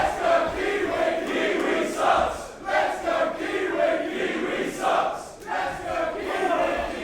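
A wrestling crowd taunts Travis Banks with loud rhythmic chanting, the massed voices swelling and dropping in a steady repeated cadence that fills the arena.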